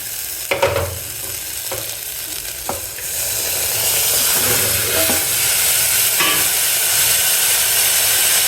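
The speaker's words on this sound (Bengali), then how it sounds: "আলু পেঁয়াজটাও অলমোস্ট ভাজা হয়ে এসেছে" Potatoes and onions frying in a pan with oil, a steady close sizzle that swells and stays strong, with a few clinks and stirring knocks early on.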